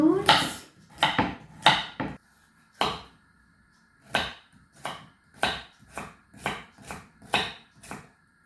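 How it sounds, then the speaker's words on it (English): A knife dices a carrot finely on a cutting board, about a dozen crisp taps in uneven bursts with short pauses between. "I'm also going to chop this carrot quite finely into dice."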